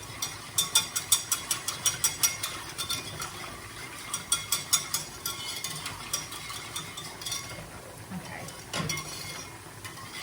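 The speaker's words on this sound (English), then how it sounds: "scrape the sides of your pot with the whisk to make sure you're catching any potentially lumpy bits" A whisk scrapes and clinks around a pot of broccoli, cabbage, rice and quinoa, giving a fast, rhythmic metallic rattle that is steady at first, then looser and softer toward the end.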